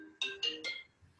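A phone ringtone plays three quick bright electronic chimes in a rising pattern, fairly faint and alone, then stops.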